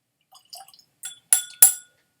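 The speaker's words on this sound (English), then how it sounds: "It's rare that I add this much water" Small splashes and drips of water into a glass of 64.7% Aultmore whisky, a few light taps, then two brighter pours of liquid, close and clear.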